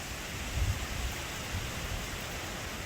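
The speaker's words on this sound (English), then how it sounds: "Oh my gosh, this rain is so intense." Intense hurricane rain from Hurricane Helene pours down steadily in Atlanta in darkness, a dense, continuous wash of noise with a few low rumbling surges, no voices.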